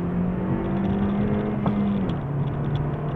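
A 2017 Honda Civic Si accelerates on a race track, its engine a loud, steady in-car drone that dips briefly partway through, then holds its pitch.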